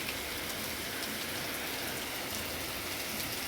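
Heavy rain pours steadily outside after a cloudburst that flooded nearby fields, a dense, continuous hiss of drops hitting surfaces, loud and even throughout with no voices.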